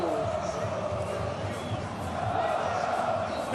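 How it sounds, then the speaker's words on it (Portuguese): Grêmio football fans celebrating in the stands at Beira-Rio stadium, a steady, somewhat distant roar of crowd voices and chanting that holds evenly throughout. "torcida do Grêmio agora festejando muito"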